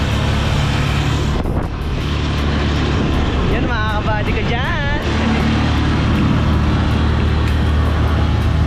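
A rumbling motorized tricycle ride on a road in the Philippines, with steady engine drone and road noise throughout and someone talking over it.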